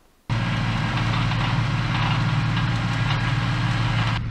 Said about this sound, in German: das sausen gerade zwei Traktoren hin und her